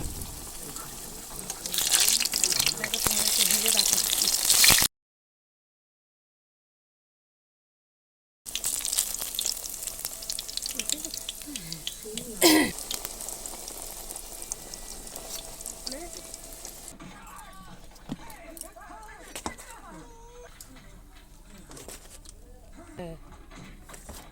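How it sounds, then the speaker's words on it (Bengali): Pea-stuffed kachori frying in hot oil, a bubbling sizzle that starts loud, breaks off, then resumes and fades softer, with a voice talking over parts of it. "দেখতে পাচ্ছ কচুরিটা তেলে দিয়ে দিয়েছি।"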